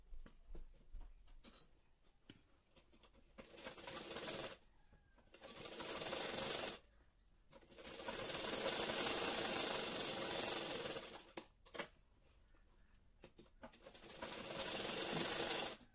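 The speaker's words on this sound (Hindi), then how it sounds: "अब हम इसकी सीधी सिलाई लगाएंगे।" A sewing machine runs straight seams on a 38-inch katori blouse, stitching in several bursts of steady rapid whirring separated by short pauses and small handling clicks, close and fairly loud.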